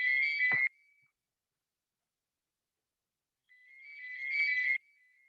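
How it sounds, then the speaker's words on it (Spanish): A landline telephone rings twice, each ring a steady electronic trill lasting about a second, separated by a long silent gap. The second ring swells in gradually. "está llamando al teléfono, voy a apagarlo un segundito"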